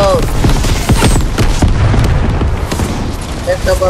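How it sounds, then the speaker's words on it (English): A Fortnite missile barrage sets off dense, rolling booms and blasts that keep coming without a break, loud and close, with voices talking over the explosions. "Missile barrage."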